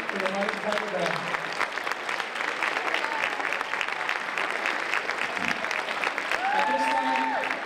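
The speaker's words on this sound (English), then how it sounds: "we'd like to give her a round of applause" Applause from the audience at a Laredo Martin High School spring concert fills the room as broad, steady clapping from a crowd, with faint voices and a brief tone heard over it.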